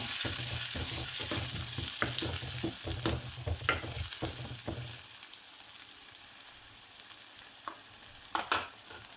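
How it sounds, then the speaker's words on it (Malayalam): Garlic, onion and curry leaves sautéing in a pan for a moong dal dish, a loud close sizzle with frequent stirring clicks that thins to a quieter hiss partway through, with a few final scrapes. "ഒരു തണ്ട് കറിവേപ്പില അതുകൂടി ഇട്ട് കൊടുത്ത് ഒന്ന് സോട്ടാക്കി കൊടുക്കാം"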